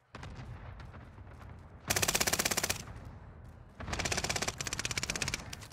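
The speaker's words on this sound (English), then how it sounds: "Allied cluster strike arriving." Allied cluster strike in Call of Duty Vanguard: a loud, rapid string of blasts fills the air, with a dense roaring burst, a pause, then another long crackling volley of explosions over a steady rumble of battle.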